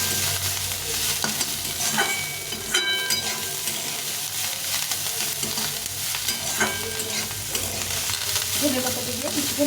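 Cauliflower shallow-fried in a small amount of oil, with chopped coriander leaves stirred in, gives a continuous near sizzle dotted with spatula scrapes and clicks over faint background music.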